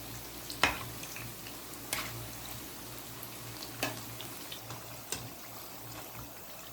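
Macaroni pakoras deep-fry in hot oil with a faint, continuous bubbling hiss, broken by four or five sharp clicks and scrapes as a spoon turns them over. No one speaks.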